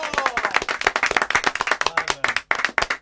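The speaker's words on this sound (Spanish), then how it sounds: "El aplauso para Martín Russo." Audience applause on a live music show, lively and close with distinct individual claps in quick succession and a short dip before resuming.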